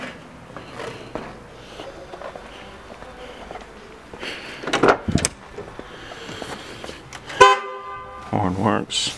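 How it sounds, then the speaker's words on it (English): A single short honk from the horn of a 1969 Chevrolet Nova cuts in near the end, loud and close, after quieter moments of small movements and rustling inside the car. "Horn works."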